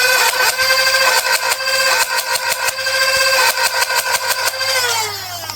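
The flywheels of a Dart Zone Max Venom foam blaster rev in repeated short whirring bursts, close and fairly loud, each spinning up to a high whine before winding down at the end.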